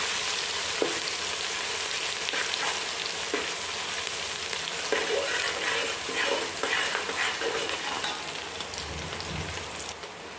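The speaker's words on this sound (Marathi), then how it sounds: "मिरच्या चांगल्या तळून घ्यायच्या तेलामध्ये अशा मध्यम अशा कडक झाल्या पाहिजे" Green chillies crackle and sizzle steadily in hot oil for spicy poha chivda, a dense close frying hiss with occasional stirring clicks and scrapes throughout.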